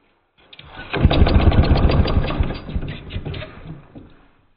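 A small engine catches and fires up, then runs loud and rough for about two seconds with a rapid chugging beat before sputtering and fading out.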